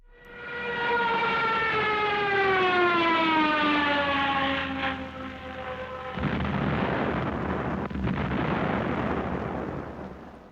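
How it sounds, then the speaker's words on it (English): A loud wailing air raid siren slides downward in pitch during a Spanish Civil War bombing raid, then gives way to heavy rumbling blasts and roaring explosions. "more bombs fall all around you, the sound of explosions shattering your eardrums."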